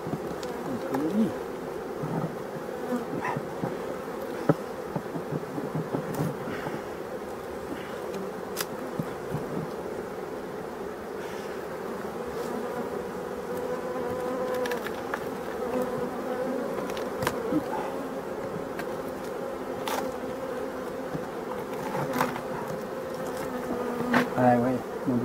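Honey bees swarm and buzz steadily around an opened, abandoned beehive, a dense continuous hum close by with no talk, and a few brief clicks and a distant bird cooing now and then.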